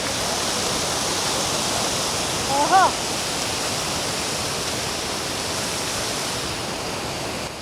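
Fast-flowing water pours over Pocharam Dam in a loud, unbroken roar, and a voice briefly exclaims partway through.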